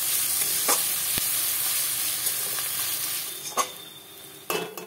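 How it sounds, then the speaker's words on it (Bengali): Chopped medium onion fries in a pan while a spoon stirs it, loud steady sizzling broken by sharp scraping knocks of utensil against metal, with no voices. "এটাকে আমি ভালো করে পেঁয়াজটাকে নেড়ে ভেজে নেব।"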